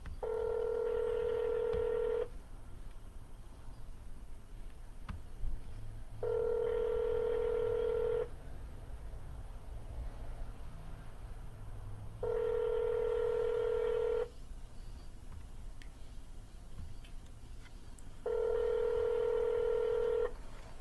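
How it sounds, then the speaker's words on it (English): An outgoing telephone call rings unanswered during real estate cold calling: four two-second ringback tones spaced evenly about six seconds apart, faint and alone. "Let's call that first number one more time to see if we can get him to pick up."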